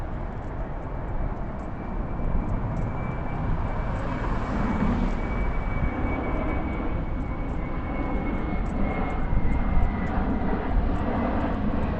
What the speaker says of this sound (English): We got another plane going into Newark.